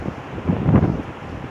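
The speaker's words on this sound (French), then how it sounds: "Mais il n'était pas censé avoir autant de vent que ça." Strong wind buffeting the microphone in a continuous low rumble that swells to a louder gust midway before easing off.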